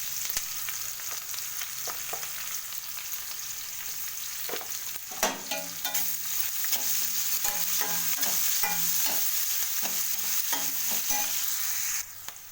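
Tempering spices sizzling in hot oil, a bright crackling hiss joined by repeated metallic clinks and scrapes of a spoon stirring in the pan, with no talk.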